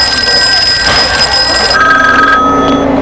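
Telephone in a movie phone scene ringing with a bright, loud, continuous electronic bell tone that cuts off abruptly partway through, leaving a faint fading tail.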